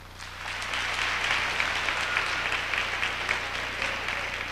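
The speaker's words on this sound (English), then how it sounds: "please give Hubert another round of applause" An audience at a 1991 New York awards ceremony gives sustained applause, a dense, steady wash of clapping that swells in at the start and holds at a fairly distant level.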